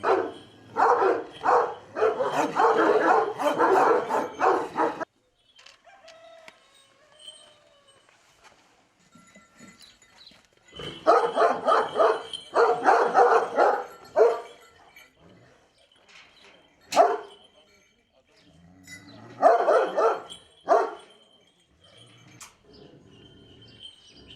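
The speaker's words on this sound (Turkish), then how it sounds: "Özellikle Anadolu çoban köpeklerini." Anatolian shepherd dogs on a farm bark in several loud bursts of rapid, repeated barks, with quieter gaps and a few isolated single barks between them.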